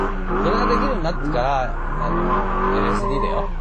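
A car slides through a turn as the e-brake is pulled, tires squealing with a wavering, skidding whine over a steady engine drone, with someone talking throughout.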